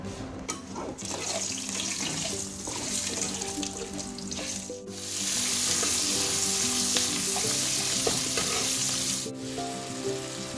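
Mutton curry cooking in a pan on a gas stove in a home kitchen: a steady, close sizzle and bubbling with occasional stirring clinks, running continuously throughout.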